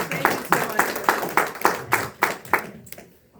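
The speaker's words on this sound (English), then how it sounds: "give her a round of applause." A small group at a woman's club gathering claps in a loose rhythm of distinct, fairly close hand claps that thin out and fade to near quiet at the end.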